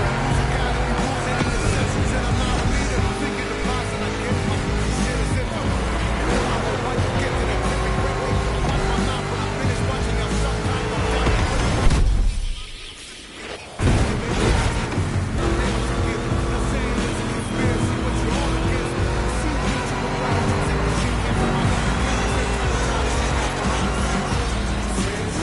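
A Mustang GT revs and drones under load through a two-lap race in The Crew Motorfest, loud and continuous, with the engine briefly cutting out midway before roaring back.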